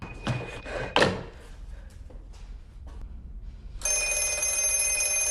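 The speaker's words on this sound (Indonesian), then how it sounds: "karena telepon itu terus-terusan berdering" A telephone rings persistently in a film scene, its bright, steady electronic ring beginning partway through after a few dull thuds and knocks.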